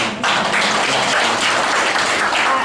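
Dense, steady applause from a crowd at an official visit in Bandung, Indonesia fills the room, a continuous wash of many hands clapping at once with no voices over it.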